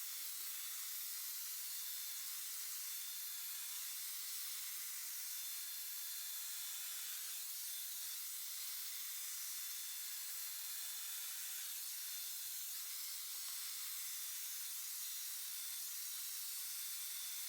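A Dyson Airwrap hair styler blowing hot air while hair is brushed and dried, a constant smooth high-pitched airy hiss, close and even throughout with no voices.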